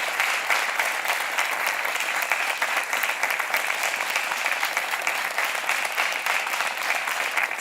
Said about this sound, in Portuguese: Um aplauso para os dois.